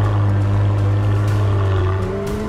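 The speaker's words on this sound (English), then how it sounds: "plus the soundtrack of the exhaust" McLaren W1 supercar exhaust revving loudly and close, a deep sustained engine drone with a pitch that shifts slightly as the revs change.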